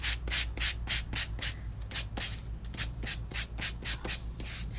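Light, rapid back-and-forth sanding strokes on embossed colored paper, a rhythmic scratchy rasp repeating about every quarter second, close and steady with no talking.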